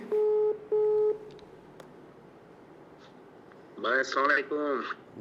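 A phone call placed on loudspeaker rings with two long electronic tones, then goes quiet before a voice answers through the tinny speaker, close and clear in a room.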